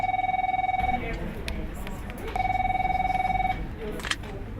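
A phone line rings back on an outgoing call in two long electronic tone bursts separated by a pause, clear and close, followed by a faint voice.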